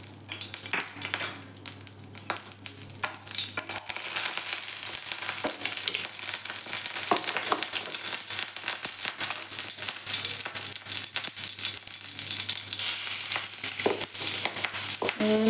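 Bottle gourd fries in a little hot ghee, giving a steady close sizzle with occasional crackles and the clink of a utensil stirring in the pan, with no one talking.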